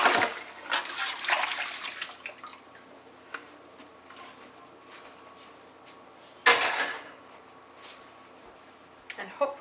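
Dyed fiber being rinsed in water after a pot dye session, with splashing and sloshing bursts at the start, a quieter stretch of faint trickling, then another splash and a few more near the end.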